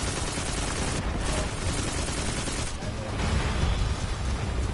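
Rapid gunfire in the video game Destiny 2, dense loud bursts of shots and impacts running almost without pause, with brief dips between volleys.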